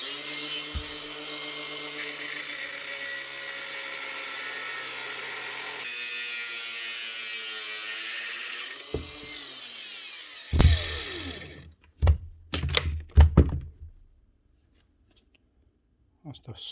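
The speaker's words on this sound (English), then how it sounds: "we want to cut this chuck just here" A power tool cuts into a Makita drill chuck with a steady, close, high buzzing whine for about nine seconds, then the pitch shifts and the grinding breaks into uneven bursts and clattering knocks before stopping.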